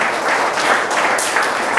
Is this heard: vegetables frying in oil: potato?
no